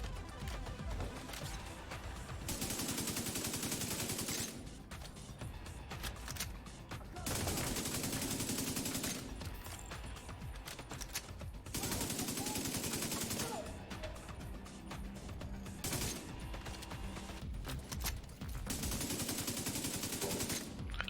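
Bursts of automatic gunfire from The Division 2, loud and dense, coming in several sustained volleys of a few seconds each separated by brief lulls, with crashing impacts mixed in.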